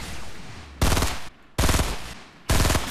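Gunfire in the video game Fortnite: three loud bursts of rapid automatic shots, each lasting about half a second, separated by short pauses with quieter background noise.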